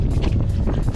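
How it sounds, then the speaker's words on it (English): Strong wind buffeting on a hilly trail during a winter dog run, loud gusty rushing and rumbling across the microphone, continuous for the whole second with no clear talking. "Whew, it is windy today."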